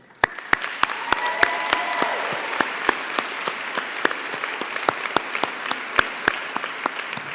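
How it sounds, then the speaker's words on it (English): Graduates at a college winter convocation ceremony applaud their faculty and staff in a steady, broad round of clapping from a large crowd, with a few sharp, close claps standing out above the roomy wash. "Graduates, please join me in a round of applause to thank our faculty and staff"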